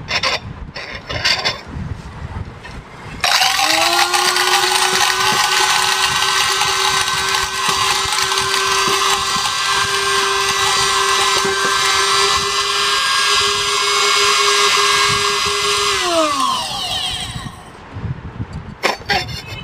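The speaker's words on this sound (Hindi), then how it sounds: "हम आपको पत्थर डाल के दिखा रहे हैं इस मसाला ग्राइंडर में" A masala grinder pulverises a piece of stone into powder: a loud, steady high-pitched motor whine with rattling grit runs for about thirteen seconds, then winds down, with brief handling noises before and after.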